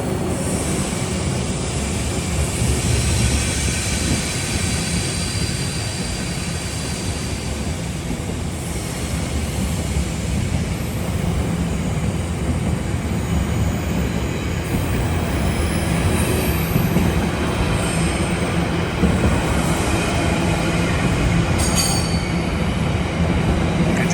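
A Freightliner freight train passes nearby, a loud continuous rumble of wagons and rolling wheels with occasional high metallic squeals, steady throughout.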